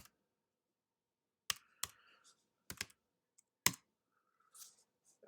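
Quiet, sparse typing on a computer keyboard: a few separate key clicks and a short cluster of taps, with silent gaps between them.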